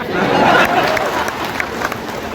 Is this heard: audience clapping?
yes